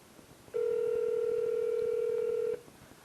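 A single steady electronic phone tone sounds for about two seconds while a call is placed from a handset during a Faraday security product test, starting and stopping abruptly over quiet room background.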